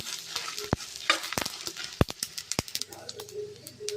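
Fish cooks in a pan for a Tulu-style fish curry, with scattered clattering stirs and sharp utensil knocks over a faint sizzle, close and fairly quiet.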